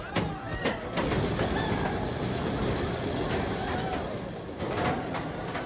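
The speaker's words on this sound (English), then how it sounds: "Scenic railway at Katoomba is great. A ride on this old girl is like being thrown off a cliff" Old coal-hauling trolley of the Katoomba Scenic Railway in the Blue Mountains rumbling and clattering along its track, a steady loud rail noise with knocks and rattles throughout, recorded in 1989.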